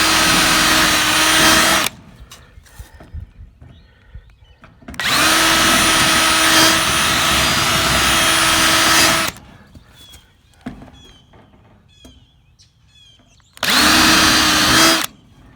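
Three bursts of a high-pitched power drill whining through metal as pop rivets are drilled out, each lasting a few seconds, separated by quieter handling clatter.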